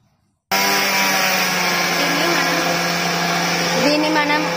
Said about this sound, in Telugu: ఒక్కసారి తిప్పాలండి మిక్సీని, ఎందుకంటే ఇది కరెక్ట్గా కొంచెం రఫ్గా ఉండాలి పౌడర్ అనేది